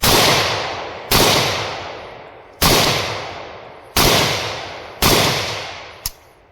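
Five loud, close gunshots fired at a slow, uneven pace, each a sharp crack with a long decaying tail, and a smaller sharp snap near the end.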